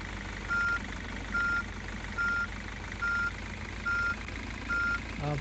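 Reversing beeps from a street-cleaning truck in Street Cleaning Simulator, a steady series of six evenly spaced electronic tones over a constant low engine drone, with no talk.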